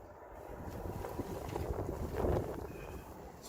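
Outdoor wind buffets the microphone during a truck body lift job on a second-generation Dodge Ram, a low, steady rumbling roar that swells briefly toward the end, with no talking.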